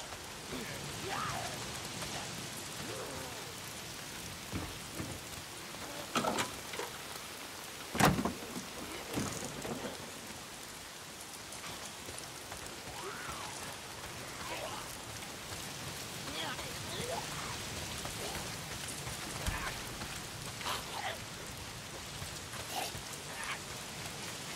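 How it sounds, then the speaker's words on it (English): Steady rain falls in the Days Gone game world, a dense continuous hiss of drops with scattered louder splashes and patters, no talking over it. "If it's not the freaks, it's the goddamn rain."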